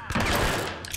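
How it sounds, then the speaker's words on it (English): Gunfire bursts out in a shootout in the video game Hitman: Absolution, a loud close burst of rapid shots filling the brief moment. "Guess we're gonna have to shoot this out"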